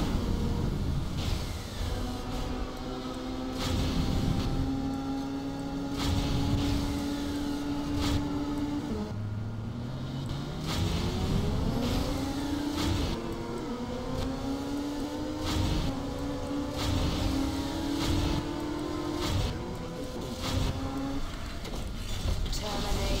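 Diabla races along in vehicle mode in the Transformers Universe video game, a steady engine drone with rising and falling pitch sweeps, continuous and fairly loud across the whole stretch with brief shifts as she accelerates.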